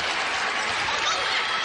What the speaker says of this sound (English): Crowd getting involved, the band in the stands